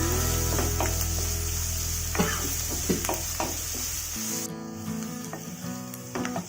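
Onions sauté in a pan for bread upma, a steady sizzle with intermittent stirring scrapes and light taps of the spoon; the background hum drops partway through, and no one speaks.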